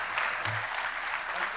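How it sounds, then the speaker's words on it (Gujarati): Audience applause after a talk at a Gujarati speaking event, a steady dense patter of clapping throughout the short stretch, fairly distant and even in level with a faint voice underneath. "please give big hand"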